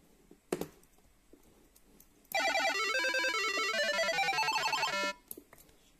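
A cluster of overlapping electronic phone notification chimes rings out for about three seconds, loud and busy with layered melodic tones, heard during a Minecraft game session, with brief clicks before and after.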